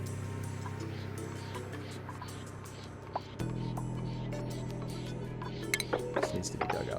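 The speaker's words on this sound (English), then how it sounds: "What's that pumpy noise I'm hearing? Oh, it's our pump." A low mechanical hum of a pump in the video game Oxygen Not Included drones steadily, shifting pitch partway through, with faint ticks and clinks scattered over it, quiet and continuous.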